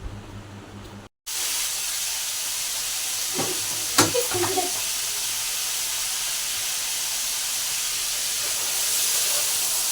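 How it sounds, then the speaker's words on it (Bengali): Rice boils in one pot while a vegetable curry cooks on a nearby stove, giving a steady loud hiss and bubbling wash, with a few clinks and stirring sounds partway through. "ডালটা নেমে গেছে, এদিকে ভাত ফুটছে, আর এদিকে হচ্ছে নিরামিষ একটা তরকারি"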